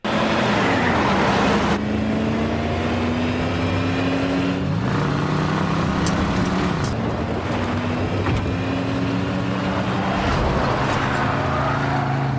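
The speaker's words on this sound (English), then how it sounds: "I never realized before how badly car chases need music to be entertaining" Car chase from the 2007 action film Urban Justice: continuous loud roaring engines with rising and falling pitch as vehicles accelerate, steady road noise throughout, no music or talk.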